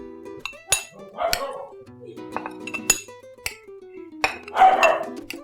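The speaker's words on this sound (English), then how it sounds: "let me grab a little bowl to put this in" Dishes clinking as a small bowl is grabbed from a kitchen stack, several sharp ceramic clinks and clatters close by, with a dog barking and a voice in the background.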